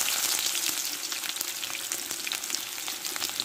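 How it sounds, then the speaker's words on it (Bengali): Chopped onion fries in a pan alongside a bay leaf for chana dal, giving a dense, steady sizzle and crackle throughout, close and fairly loud with no voices. "পেঁয়াজটা ভালো করে ভেজে নিব।"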